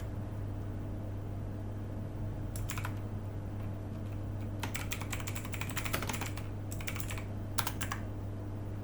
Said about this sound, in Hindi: सबसे पहले सेल A1 में टाइप करते हैं इंपॉर्टेंट नोटिस।